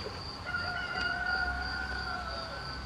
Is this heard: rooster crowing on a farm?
yes